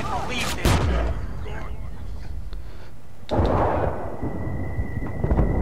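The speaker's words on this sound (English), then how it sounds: "Oh god, grenade." Grenade blasts and gunfire in the video game Battlefield: Bad Company 2, with heavy booming bursts near the start and again past the midpoint, and a sustained battle rumble between and after them.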